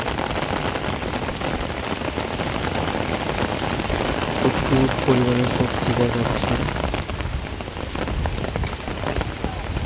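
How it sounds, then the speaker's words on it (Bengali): Heavy rain pours onto a pond in a dense, steady hiss of splashing drops, with a voice speaking briefly partway through. "আবারও বৃষ্টি শুরু হয়ে গেল। বৃষ্টি পড়তেছে"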